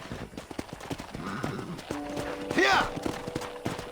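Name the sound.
horse hooves clip-clopping, Red Dead Redemption video game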